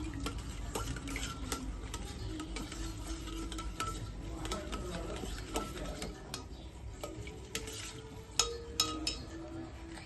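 A food mixture with mango being stirred and mixed in a pot: steady scraping and clicking taps of a spoon against the vessel under a constant background hiss, with faint talk.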